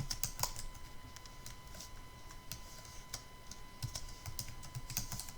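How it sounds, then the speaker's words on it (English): Typing on a computer keyboard in a quiet room, a steady patter of light key clicks at an even pace over a faint constant hum. "at the new insertion point, click there and type Gerard Foster."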